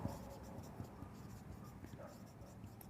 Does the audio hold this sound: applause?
no